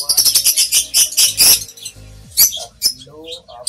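African lovebirds chirping in a busy aviary, a dense run of close, shrill, rapid calls and tweets that overlap each other, with a few sharper chirps standing out toward the end.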